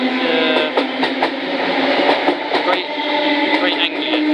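A Greater Anglia passenger train departs Stratford bound for Ipswich, a loud close rumble with rhythmic clicks of wheels over rail joints and a sustained motor tone.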